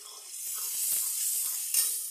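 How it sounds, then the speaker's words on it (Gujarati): Turmeric going into hot tempering oil for a Gujarati tomato-gravy dhokli, producing a steady close sizzle and hiss that swells briefly near the end. "મરચું નાખ્યું હવે હળદર નાખી દઉં વઘારમાં"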